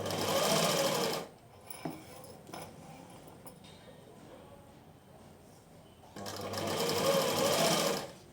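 A sewing machine stitches piping onto cloth in fast, loud bursts, running for about a second at the start and again for the final two seconds, with quieter handling sounds between.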